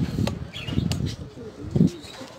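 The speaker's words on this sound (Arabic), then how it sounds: "هذه هي الوقيته ديال الطلاق ديال الحمام مور الغداء" Pigeons released after lunch flap their wings in several soft fluttering bursts, with faint cooing calls between them, fairly close and outdoors.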